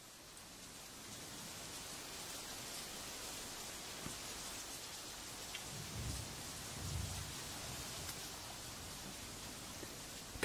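Steady, dense tropical rainforest rain in Thailand hisses throughout, with low rumbles of distant thunder rolling in near the middle, and no talk.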